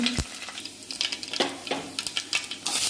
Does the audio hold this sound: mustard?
yes